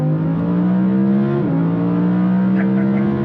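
A naturally aspirated Lamborghini Huracan engine revs hard from inside the car, with a loud sustained tone that rises, drops briefly at a shift, then climbs again.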